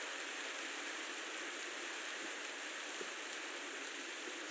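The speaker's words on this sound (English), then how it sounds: "Probably gotta get out of the rain." Steady rain falls in an even broadband hiss during a railway exploration, continuous and unbroken, with no voices.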